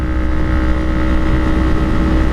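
Engine note of a brand-new 2012 Kawasaki Ninja 250R motorcycle at riding speed, its exhaust giving a thin, scooter-like buzz; a steady, loud, continuous drone with constant low rumble and no voices.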